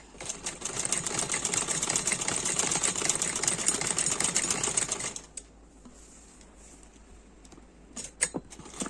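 A sewing machine stitches a side-pleat frock, running in a steady rapid whir for about five seconds before stopping, followed by quiet handling and a few soft clicks.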